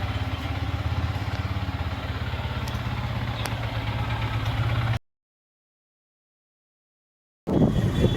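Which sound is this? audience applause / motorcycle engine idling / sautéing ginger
motorcycle engine idling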